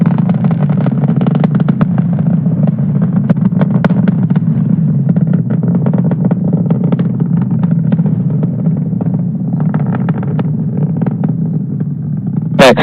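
SpaceX Falcon 9 rocket engines roar during a launch from Florida carrying a Turkish satellite, throttling down as the supersonic vehicle nears max Q. The roar is loud, deep and continuous, with a crackling texture and no break throughout.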